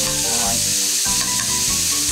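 Food sears in a pan over strong medium heat, giving a continuous close sizzle and hiss throughout, with music playing in the background.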